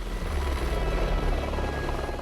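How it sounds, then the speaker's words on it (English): Helicopter hovering over an Alpine mountain summit, a loud, steady, close rotor thrum with a dense, continuous roar and no talk. "the helicopter can't land, so we have to jump out while it is hovering"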